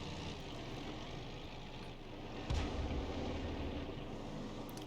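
Tank artillery in a video game fires once mid-clip with a deep, muffled boom, setting off a low rumble over a quiet, distant battlefield background.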